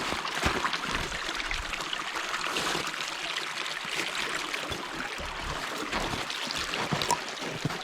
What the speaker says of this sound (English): We have got ourselves another water crossing.